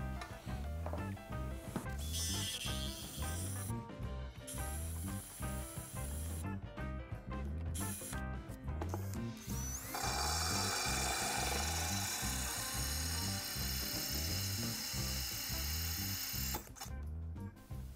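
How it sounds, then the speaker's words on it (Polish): Bosch power drill boring two holes in ceramic tiles, a close, pulsing whine with rhythmic hammering, pausing briefly before a louder hissing stretch of grinding. "wywiercę na szybko te dwa otwory i pokażę Wam"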